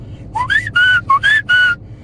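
A person whistles a short tune up close, a handful of clear bright notes rising and falling in a quick melodic phrase.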